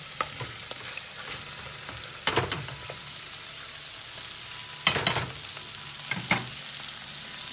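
Thawing food cooking in a pan with onion, carrot and garlic, a soft continuous sizzle broken by a few louder clattering stirs and scrapes, with no talk.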